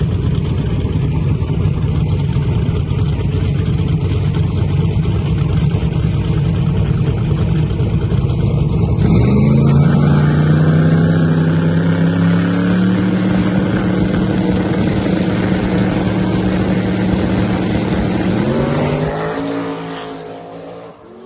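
Drag race cars roar in the limited final at Mid America Dragway, a loud sustained engine blare with rising pitch as they accelerate down the strip, then the sound fades at the end.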